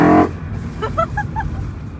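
BMW E93 M3 convertible with the top down, its engine fitted with velocity stacks and individual throttle bodies: a loud intake blare that cuts off quickly, then a lower rumble with faint chirping tones, heard up close.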